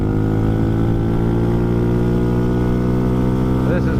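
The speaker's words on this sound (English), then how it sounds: "This is wide open throttle" A 2020 Hawk 250 motorcycle engine at wide open throttle gives a loud, steady, buzzing drone during a road ride, holding a constant high note throughout.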